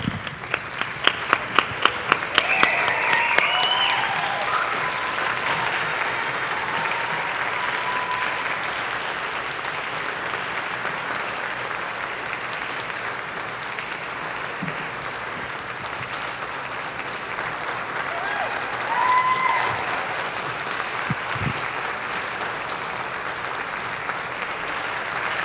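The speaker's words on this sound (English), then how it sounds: "would you all stand and applaud our panelists today?" A standing audience at a Trust in Moms panel event applauds its panelists with sustained, dense clapping. It opens with a few sharp individual claps, then holds steady and fills the room for over twenty seconds.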